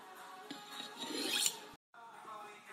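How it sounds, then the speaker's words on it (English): A dull kitchen knife is drawn across a sharpener in steady rasping strokes, close and fairly quiet, with a brief pause before the scraping resumes. "my knife's a little dull, so we're just gonna sharpen it up a bit."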